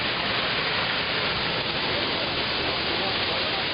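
Düden waterfall in Turkey roaring at its mouth, a dense, steady broadband rush of falling water filling the scene without pause, close and loud.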